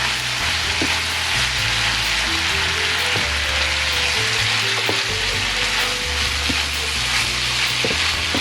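Butter sizzles and fries steadily in a hot pan, a continuous crackling hiss at close range with occasional stirring clatter and no talk over it.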